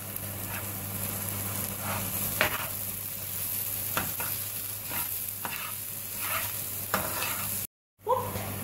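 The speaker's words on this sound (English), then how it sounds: "Stir it." Chicken, beetroot and carrot curry stirred in a pan, repeated scraping strokes over a soft steady sizzle and low hum, close by, with a short dropout near the end.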